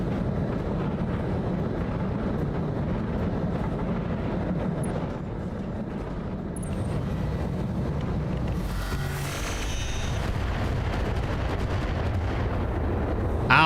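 Missile strikes pounding a limping mech in BattleTech with the RogueTech mod, a steady low rumble of explosions and impacts that swells with a bright burst midway, near and loud throughout.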